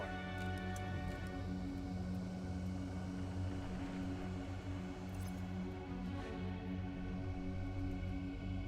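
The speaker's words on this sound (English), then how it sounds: "It's a bird. It's a plane. Yeah, it's a plane. Aircraft spotted." Aircraft drone overhead in the RTS game Beyond All Reason, a steady, layered engine hum that holds evenly throughout, with faint clicks and blips from the battle on top.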